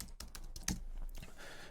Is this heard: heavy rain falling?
no